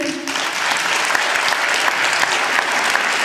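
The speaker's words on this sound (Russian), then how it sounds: "Ваши аплодисменты." Steady, dense applause from a concert audience after a performance by a Russian folk-instrument orchestra and a boys' choir, loud and continuous throughout.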